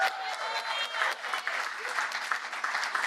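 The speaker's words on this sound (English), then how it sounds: "Please join me in giving them a round of applause." An audience at a community summit forum gives a sustained round of applause, dense clapping with a few cheers mixed in, steady and moderately loud throughout.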